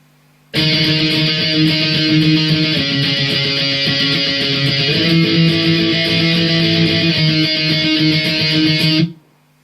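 An overdriven electric guitar plays sustained octave chords, changing shape every couple of seconds, loud and steady before stopping abruptly.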